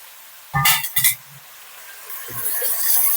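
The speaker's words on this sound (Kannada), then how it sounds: "ಇದು ಆಯಿಲಲ್ಲೇ ಫ್ರೈ ಆಗಬೇಕು." Breakfast food fries in oil in a home kitchen pan while being stirred, with a few sharp clinks of a spoon against the pan followed by a gently rising sizzle.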